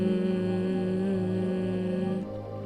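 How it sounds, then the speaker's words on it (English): Steady closed-mouth humming on a sustained exhale during yoga breathing, a single continuous tone held for a couple of seconds before easing off softer at the end, alone with no talking. "you're going to hum your exhale out."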